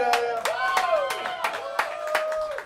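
Hands clap for a performer after an unplugged acoustic rock set, the clapping joined by sustained tonal voices or singing over it at moderate level for a few seconds.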